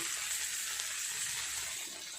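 Ilish paturi, hilsa fish wrapped in leaves, frying in a pan over a low gas flame: a steady, even sizzle and hiss that carries through without pause, alone with no voices.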